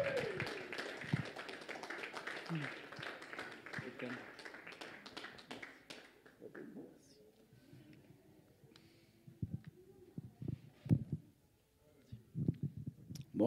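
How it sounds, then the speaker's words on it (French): Applause from a church congregation welcoming a speaker, a mass of close clapping for several seconds that thins out into scattered claps, with people talking over it. "Alors, vraiment une main d'applaudissement pour lui"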